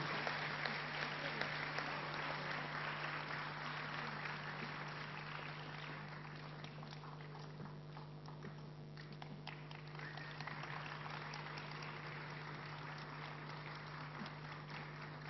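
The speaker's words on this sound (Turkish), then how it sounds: "Tabii alkışlarla yapıyoruz her zamanki gibi." Steady audience applause at a Turkish event as two guests are invited to join the chorus, continuous and fairly even throughout, heard at a moderate distance over a low constant hum.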